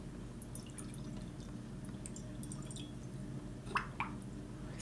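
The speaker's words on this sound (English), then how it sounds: "Now I take with my other hand the water and pour it gently" Water poured gently by hand through a coffee filter in a home kitchen, with faint soft trickling over low background hum and two brief louder drips or splashes near the end.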